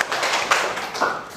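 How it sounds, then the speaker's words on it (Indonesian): A classroom of students gives brief applause, a short burst of scattered hand claps at moderate volume lasting just over a second. "beri aplaus untuk kita semua"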